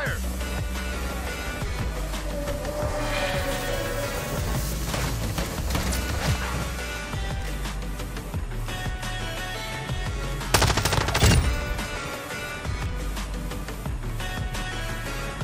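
Rapid machine gun bursts rattle nonstop in a video game firefight, loud and close, with heavier impacts and a sharp crash near the end and a voice speaking briefly beneath.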